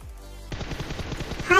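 Rapid bursts of gunfire in a shooting video game, a steady rattling volley of shots that grows louder near the end after a brief quieter lead-in.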